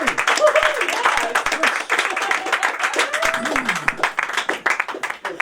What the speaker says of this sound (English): a warm hand of applause for our second guest